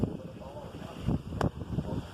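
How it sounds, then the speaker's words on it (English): Strong wind buffeting and rushing past the microphone during a severe thunderstorm, in uneven loud gusts with brief sharp bursts, heard close up and alone. "It's freaking windy out there."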